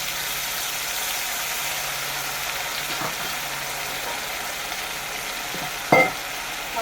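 Tomato and spice paste fries in a pan with a steady, close sizzle, interrupted by a few stirring scrapes, one brief sharp clank near the end.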